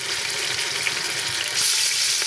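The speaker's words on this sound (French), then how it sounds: "j'ai mis la viande à dorer un peu pour le goût" Meat browning in a pan for a white cabbage and potato stew gives off a steady, close broadband sizzle that grows slightly louder toward the end, with no talking.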